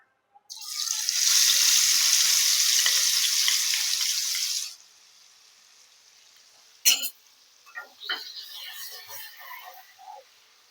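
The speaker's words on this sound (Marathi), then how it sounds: "ही जी पेस्ट बनवून घेतली होती ना आपण ती पहिला तेलामध्ये फ्राय करून घ्यायची" Spice paste dropped into hot oil in a pan, an immediate loud hiss of frying for a few seconds that then fades, followed by quieter crackles and a sharp knock.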